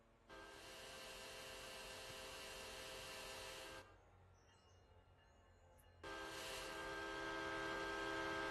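An Amtrak-style locomotive horn on a P42 sounds at a railroad crossing in two long, loud blasts, the first about three and a half seconds, then a pause and a second blast, with a faint hiss between.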